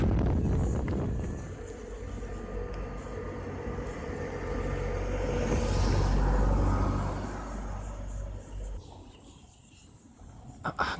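Wind gusts across an open hilltop and buffets the microphone with a loud, low rumbling roar that swells toward the middle, then eases and flutters unevenly.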